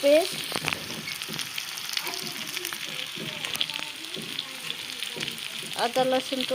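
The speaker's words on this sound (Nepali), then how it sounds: "आजको मेरो मासु यसरी पाक्दैछ।" Meat with onions, tomato and ginger-garlic paste frying in a pan, a constant close sizzle and crackle with occasional stirring scrapes, while someone talks over it.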